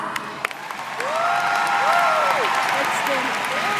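A seminar audience gives the Never Give Up unit a round of applause, a continuous crowd clapping that swells after the first second while a few whistles and cheers rise over it.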